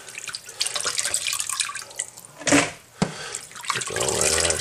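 Tap water runs and splashes into a bowl as conch is rinsed, a close, steady gush with brief surges and a short break before the flow resumes.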